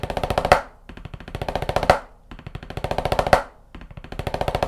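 Rapid 15-stroke snare drum rolls, each swelling quickly into an accented final hit, separated by short pauses, close and clear with no talking.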